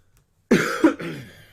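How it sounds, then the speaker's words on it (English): A single person gives a short, harsh cough with a throat-clearing quality, close and fairly loud, in two quick bursts after a moment of silence. "Surprised anyone's watching you because you cough so much."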